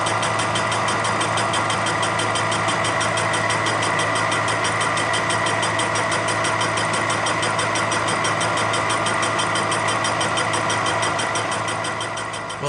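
A milling machine takes repeated light passes, about fifteen thousandths each, along the sole of a cast iron straight edge. It gives a steady, loud mechanical whine with a fast, even chatter of the cutter throughout.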